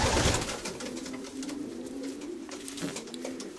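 A pigeon coos in a low, steady murmur up close, its soft repeated calls running through the whole stretch with no speech.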